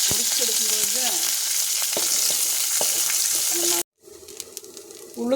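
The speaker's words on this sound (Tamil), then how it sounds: "கருவேப்பிலை மட்டும் பொரிச்சு எடுத்துக்கலாம்." Curry leaves fry in hot oil with a loud, steady crackling sizzle and occasional stirring, which cuts off abruptly near the end before a quieter sizzle resumes.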